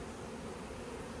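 A bee buzzes near a beekeeper, a faint, steady droning hum that lasts the whole brief moment.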